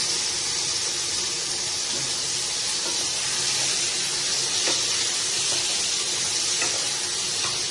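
Potatoes hit hot oil in a kadai just after tempering spices, giving a steady, dense sizzle with bright hiss throughout and faint occasional stirring clicks, close and continuous with no talking.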